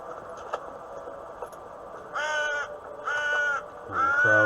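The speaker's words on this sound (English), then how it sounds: "Crows there." Crows cawing in a video game, three loud harsh caws in succession after a quieter opening, fairly close and clear with no talk over them.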